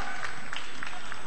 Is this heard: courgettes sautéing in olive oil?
no